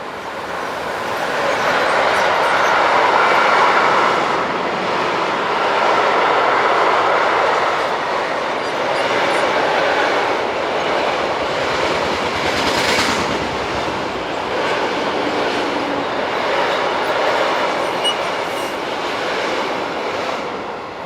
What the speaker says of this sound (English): 185380 heading a mixed freight